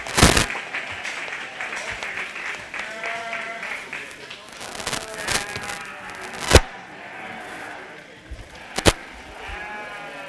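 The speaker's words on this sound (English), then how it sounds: "Let's give them a round. Applause." Applause rises and fades at a 4-H/FFA sheep show honoring the champions, with sheep bleating nearby, voices murmuring and a couple of sharp knocks standing out.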